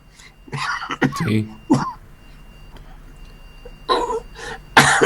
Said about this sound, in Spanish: Te digo que tengo una tosecilla media así, alérgica.